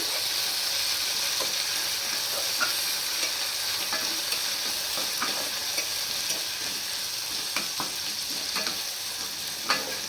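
Ginger garlic paste fries in a pan for a vegetable biryani, with a bright steady sizzle and frequent small scraping clicks of a spatula stirring, close and clear.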